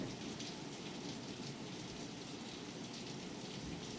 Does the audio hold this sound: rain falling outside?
yes